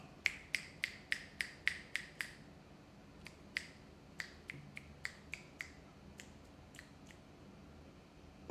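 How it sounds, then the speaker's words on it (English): Finger snaps picked up through Skullcandy Indy ANC noise-cancelling earbuds with noise cancelling on: a quick run of about eight sharp, even snaps, a short pause, then a looser scatter of snaps, all over a low background hiss. "I can hear the snapping without any issue"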